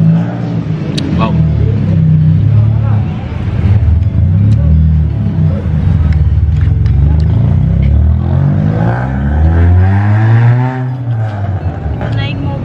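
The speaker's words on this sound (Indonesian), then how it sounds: "Iya, jadi digas-gas gitu senalpotnya digobok-gobok." A car's loud aftermarket exhaust revs repeatedly on a street beside a roadside chicken porridge stall, deep rumbling swells rising and falling close by, with people talking over it throughout.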